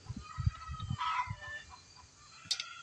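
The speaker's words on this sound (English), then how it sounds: "now the chickens are gonna start going nuts" Chickens cluck and squawk nearby in short irregular bursts, with a brief sharp cackle near the end over a quiet farmyard background.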